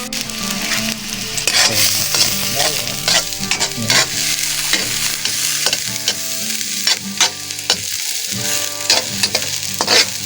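Garlic sautéing in hot cooking oil for bitter melon stir-fry, a loud steady sizzle broken by repeated scraping and clattering stirs of a utensil in the pan, close by with no talk.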